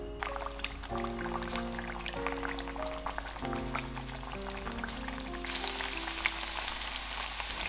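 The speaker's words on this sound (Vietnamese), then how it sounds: "Sau khi phần bột bắp đã bám kín vào phần khoai tây thì chúng ta sẽ đem phần khoai tây đi chiên." Cornstarch-coated potatoes fry in hot oil with a steady, crackling sizzle that swells louder toward the end, heard beneath a melodic background music track with no talking.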